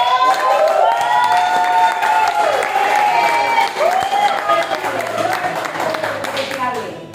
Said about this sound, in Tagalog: Malakas na palakpak!